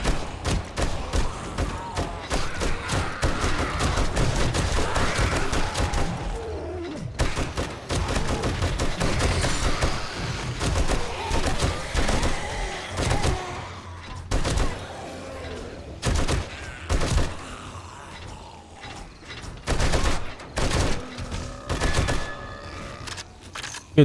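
Rapid, sustained gunfire from a weapon in the survival game 7 Days to Die, loud and close with dense bursts and brief gaps, with heavy thuds mixed in throughout.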